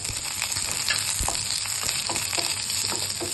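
Chopped onions frying in hot oil in a kadai, a steady close sizzle with light stirring and brief scrapes for a Tamil pudina chutney.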